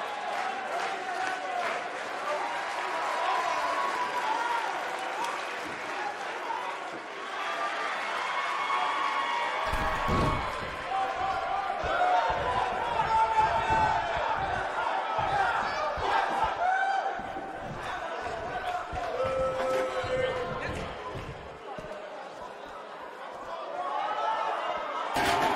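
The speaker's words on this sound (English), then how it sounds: "The crowd here tonight certainly seemed to appreciate the efforts." Arena crowd noise from the WWE 2K19 wrestling video game, a steady roar of cheering and chatter that swells and dips, with commentary voices talking over it throughout.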